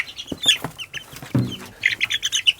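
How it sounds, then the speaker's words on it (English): Chickens cluck and chirp nearby in short bursts, with a lower throaty cluck midway and a quick run of higher squawks near the end. "Oh, these are some beautiful chickens."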